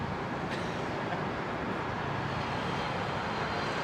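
A Boeing 767-400 airliner arrives at London Heathrow Airport in the early morning, heard as a steady, broad jet roar at moderate distance, constant throughout with no talking.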